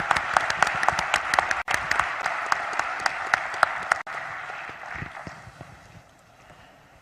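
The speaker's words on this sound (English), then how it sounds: "Please join me in a huge round of applause for our panel." Sustained audience applause for a discussion panel at the B20 Summit in Indonesia, dense clapping filling the room and gradually thinning out toward the end.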